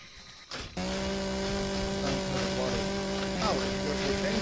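A chainsaw in Empyrion runs steadily as it cuts into a tree, a loud continuous buzzing motor drone that starts abruptly and holds with slight pitch shifts throughout.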